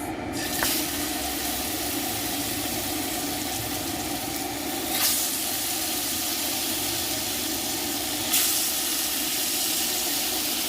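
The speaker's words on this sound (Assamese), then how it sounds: "ইয়াত এতিয়া পিচ দি দিম মাছ" Fish frying in a hot kadai with a steady, loud sizzle and hiss that continues throughout, with a few brief crackling bursts as the oil spits.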